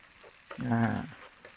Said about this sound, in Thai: ใช้เครื่อง แกงแบบนี้ ผัด ในน้ำมัน